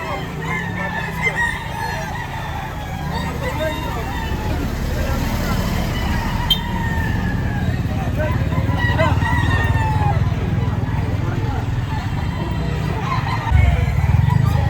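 A rooster crows repeatedly close by at a chicken market in Lipa, Batangas, with hens clucking, people talking and vehicles rumbling in the background.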